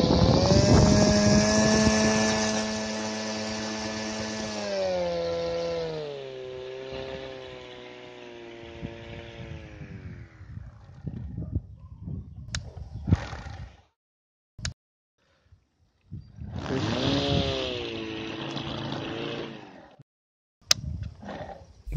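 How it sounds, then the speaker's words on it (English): A homemade electric lawn mower motor on a triac speed controller whines with a strong harmonic hum that slides down in pitch as it slows. After several clicks and brief silences, it spins back up and winds down again, with no talking. "The motor speed is kept at the set level even after a long period of work."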